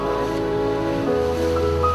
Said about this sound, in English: At a business call in town, Kru Bun Yong has to board a small boat and ride the ocean waves for about an hour.